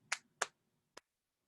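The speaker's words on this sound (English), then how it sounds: "our poison pattern today is what you don't want to clap sounds like this" A teacher claps a short rhythm pattern: two sharp, close claps followed by a single quicker clap, near and distinct with a quiet pause in between.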